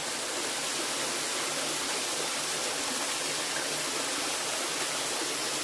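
A waterfall known as Cachoeira das Oferendas in Mafra, Santa Catarina, Brazil, roars as a dense, constant wash of falling water, loud and unbroken throughout with no voices.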